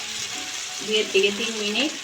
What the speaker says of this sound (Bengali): পটল দিয়ে দিচ্ছি। এখন অনবরত নেড়ে চেড়ে আমি একটু ভেজে নিচ্ছি